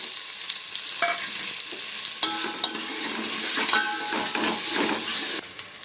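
Onions fry in a pan for Mangalore cucumber sambar, a loud close sizzle with repeated scraping and clinking stirs of a spoon against the metal, no talking.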